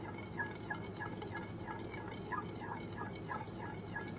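A mixture stirred for a spell makes faint, rhythmic scraping and swishing, regular strokes about every half second over a steady background hum.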